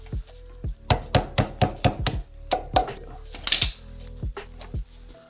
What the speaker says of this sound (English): You tap on it with a hammer too.